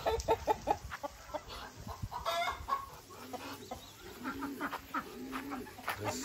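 Chickens cluck and chatter in a busy mini-zoo farmyard with ducks, geese and pigeons, short calls overlapping at moderate distance and some rustling in the background.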